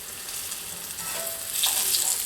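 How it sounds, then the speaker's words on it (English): Pork chops brown in about a quarter cup of hot lard in a Wagner pan, giving a steady, close, crackling sizzle that swells slightly toward the end. "We're going to brown these up just a little bit."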